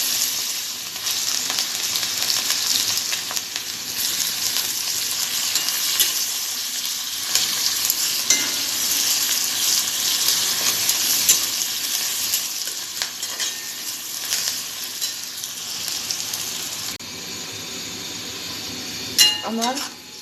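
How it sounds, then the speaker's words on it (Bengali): Chopped onions fry in hot oil with a steady, close sizzle that lasts most of the time, while occasional utensil scrapes and clinks from stirring cut through. The hiss thins out near the end. "আমি ওই তেলের মধ্যে পেঁয়াজ দিলাম।"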